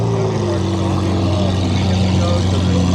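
Loud, sustained drone of a Lamborghini SVJ supercar engine, its steady low tones and harmonics holding nearly constant from start to finish.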